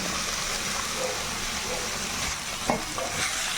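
Beetroot stir-fry with turmeric cooking in a pan, a dense continuous sizzle close by with a few faint scraping stirs toward the end, no voices.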